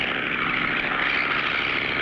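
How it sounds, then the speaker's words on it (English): A propeller airplane flies in a 1959 cartoon. Its engine makes a steady, loud droning hum throughout, with no voices. "Having picked up the plane, Clutch and Spinner return to Sunnydale"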